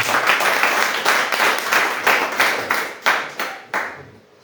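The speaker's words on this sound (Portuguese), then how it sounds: "Vamos bater as palmas bem alegres" A church congregation at an evening Bible study claps together in a steady rhythmic beat, about two to three claps per second, loud and close, fading out at the end.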